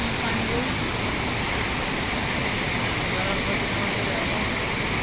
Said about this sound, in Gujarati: મસ્ત ઝરણા આવે છે.